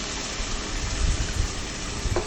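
Water poured into a biryani cooking pot, a continuous close gushing and bubbling rush with brief low thumps, steady and fairly loud throughout, with no voices.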